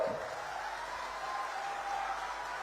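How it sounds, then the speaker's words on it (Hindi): Faint, distant applause from a crowd at an Amit Shah political rally in Saraikela, Jharkhand, a soft steady wash with some voices and tones mixed in. "जोर से ताली बजाओ"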